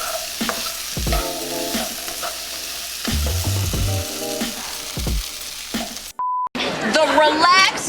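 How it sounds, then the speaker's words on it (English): Potatoes and spices fry in hot oil in a pan, with steady sizzling and repeated stirring scrapes, a short beep near the end and a voice talking over the last seconds. "So now I'm going to add the potatoes to the pan."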